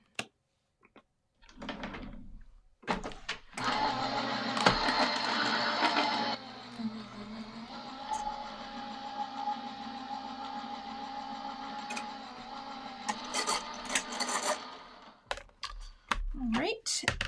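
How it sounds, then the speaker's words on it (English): A die-cutting machine presses shapes out of leftover cardstock with a steady mechanical whir and hum lasting several seconds, framed by close clicks and handling noises. "go ahead and die cut 3 hugs out of the leftover cardstock"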